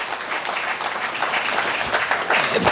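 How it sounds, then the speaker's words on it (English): An audience at a Kenyan political speech event gives another round of applause for a speaker: a dense, continuous wash of many hands clapping, loud and even throughout. "Another round of applause for Mheshimiwa."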